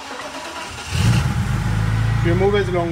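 A supercharged BMW E46 car engine turning over at idle, a steady low rumble that starts about a second in and holds under a nearby voice talking.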